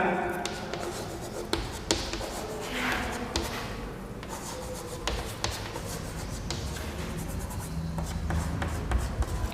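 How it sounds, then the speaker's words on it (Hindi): Chalk or marker scratches and taps out handwritten examples on a board in a school lesson, a series of sharp strokes and ticks close by over a steady room hum, with speech in the background. "तो कुछ उदाहरण लिख रहा हूं मैं, जल्दी से आप लिख लेना।"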